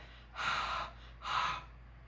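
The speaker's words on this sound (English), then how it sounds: "I just huff on this with my warm breath" Two soft, breathy huffs of warm breath blown onto a rubber stamp at close range, each lasting about half a second with a short pause between, in an otherwise quiet room.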